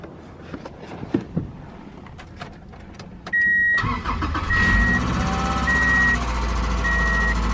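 A 1994 Subaru Legacy, hooked to a jump box, cranks and catches after a few quiet seconds, then runs with a loud, steady engine roar while a warning chime beeps repeatedly over it.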